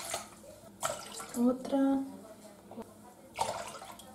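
Water poured from a glass into a cooking pot in a home kitchen, several short splashing pours in succession while someone speaks Spanish over them.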